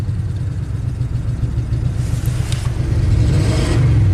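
A rebuilt Ford big block V8 idles with a steady low rumble, then revs up louder toward the end.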